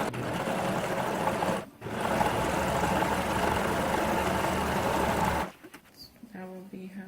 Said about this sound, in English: you can use your regular sewing machine and do a zigzag stitch around the edges.